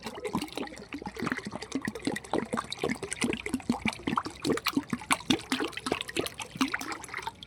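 Water poured into a container, a busy splashing and trickling stream that keeps going steadily and fairly close, with no voices over it.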